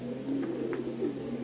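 A male Giribaz pigeon coos close by in a few soft, low, throaty rolling notes over a quiet background hum.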